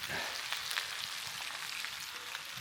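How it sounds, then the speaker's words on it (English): Steady, dense sizzling of chicken and vegetables frying in a wide paella pan, a continuous crackle with small pops throughout, close up and fairly quiet. "vegetables frying in the middle"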